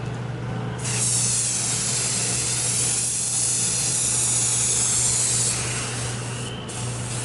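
An aerosol can of water-repellent spray hisses in long continuous bursts as it coats a two-person Mountain Trails Cedar Brook tent, loud and close, with a brief pause near the end.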